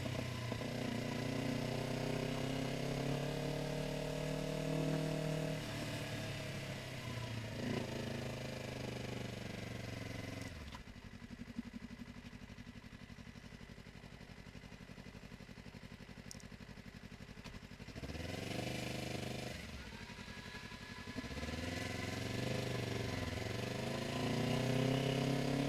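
A Yamaha R3 motorcycle rides through downtown Curitiba, its engine note rising and falling steadily through gear changes, close and continuous for the whole stretch with a few quieter dips.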